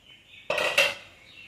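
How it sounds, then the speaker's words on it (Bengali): A metal lid clanks off a pot of pabda fish curry, followed by a short scrape and clink of metal as the curry is tipped into another vessel, close and brief, with no speech. "এবার আমি ঢাকাটা খুলে অন্য একটা পাত্রে তরকারিটা ঢেলে নেব"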